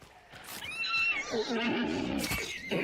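A horse in a video game lets out a loud, close whinny with a rising then falling pitch, lasting about two seconds and heard on its own.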